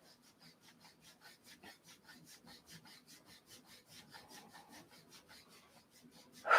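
Hands rub the lower back opposite the navel in quick, regular back-and-forth strokes, a soft, close swishing friction repeated steadily throughout.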